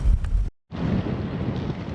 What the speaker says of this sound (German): Es war einfach zu viel Wind.